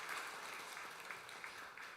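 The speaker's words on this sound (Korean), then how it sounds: "우리 박수로 크게 환영하도록 하겠습니다" Brief congregational applause in a Sunday church service, a steady wash of many hands clapping at moderate distance, fairly faint.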